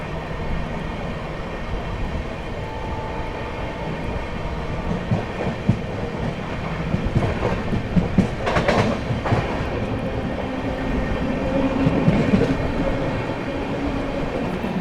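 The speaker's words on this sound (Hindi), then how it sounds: "यहाँ पर अपनी ट्रेन हाथरस जंक्शन स्किप कर रही है दोस्तों।" The 12226 Kaifiyaat SF Express runs through Hathras Junction without stopping, with a continuous loud rumble and rattle of wheels and carriages that builds a little toward the end.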